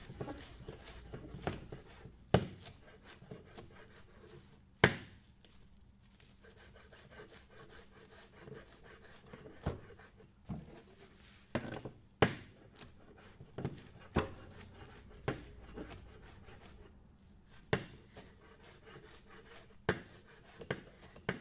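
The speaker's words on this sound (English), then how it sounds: "now we're just going to chop this nice and thin, just in little pieces" A knife chops food into thin little pieces for a stir fry, with irregular soft knocks on a board and a faint scraping rub between them, close and quiet throughout with no talking.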